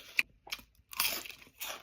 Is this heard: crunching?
yes